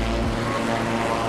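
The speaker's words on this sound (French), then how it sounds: "Un hélicoptère." A helicopter's engine and rotor make a steady, loud, droning whir that holds evenly throughout, alone with no talk.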